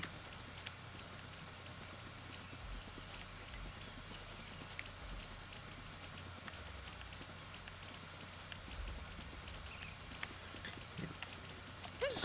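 Faint, steady clip-clopping of sheep hooves walking at an even pace over a low background hum, with no voices, in Super Mario Odyssey.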